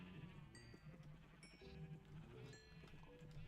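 Several sheep bleat in a blocky farming video game, overlapping wavering calls against a quiet background hum, fairly faint and without speech.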